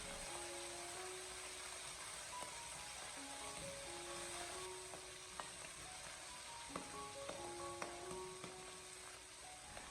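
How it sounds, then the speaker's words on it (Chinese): Minced meat, salted fish and chili sauce sizzle steadily in a wok as a spatula stirs them, a constant quiet hiss broken by occasional soft scraping taps. "然后再用锅铲再继续的给它翻炒一小会，把它翻炒均匀"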